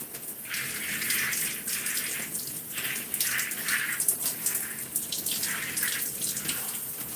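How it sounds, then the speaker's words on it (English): Shower water runs steadily during rinsing, a continuous close spray with gushing surges and splashing against the shower floor and drain. "We're gonna rinse this out."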